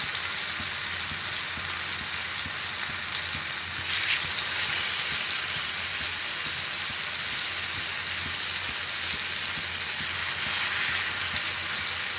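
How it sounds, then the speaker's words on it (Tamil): Marinated fish frying in a pan: a steady, dense hiss and crackle of hot oil that holds evenly throughout and grows slightly brighter partway through, with no talk. "இப்போ வறுத்துக்கிறேன் நான்."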